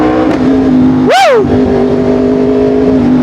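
A Yamaha R1M motorcycle idles loudly up close, then blips into one quick rev that rises and falls within half a second, followed by a steady idle drone.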